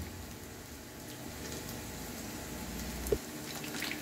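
Pork tenderloin browning in a pan over medium heat gives a steady, soft sizzle that hums along evenly with a brief knock near the end.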